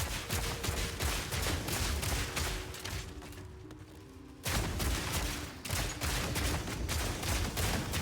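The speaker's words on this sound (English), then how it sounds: "I'm shooting like way more fragmentation rounds than I'm supposed to" Rapid, continuous volleys of crossbow fragmentation bolts fired in Path of Exile 2, a dense crackling barrage of shots that briefly thins out for about a second before resuming at full loudness.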